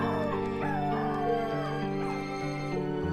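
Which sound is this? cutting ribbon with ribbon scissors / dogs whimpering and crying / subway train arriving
dogs whimpering and crying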